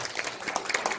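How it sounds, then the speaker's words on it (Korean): A brief burst of crowd applause at an indoor society meeting, a dense, even patter of many hands clapping together, fairly close and filling the whole moment. "두 분께 좀 박수 한번"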